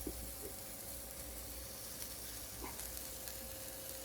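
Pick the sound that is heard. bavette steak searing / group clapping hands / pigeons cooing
bavette steak searing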